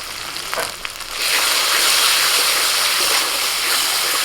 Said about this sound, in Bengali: মশলাটা বেশ কিছুক্ষণ কষিয়ে নিয়েছি একটু তেল ছাড়া ছাড়া হয়ে গেছে